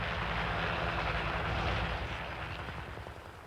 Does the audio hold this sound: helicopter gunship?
yes